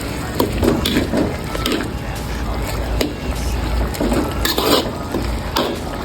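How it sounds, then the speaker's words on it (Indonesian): Beef stir-fried with cabbage, tomato, spring onion and celery leaves is stirred in a pan, making repeated scraping and clattering strokes over a low sizzle, loud and close. "jangan lupa diaduk"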